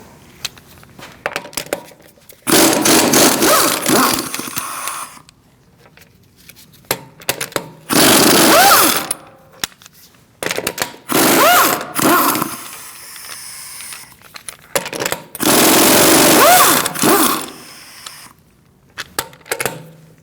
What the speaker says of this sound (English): Using a 17mm socket, we are going to remove our wheel.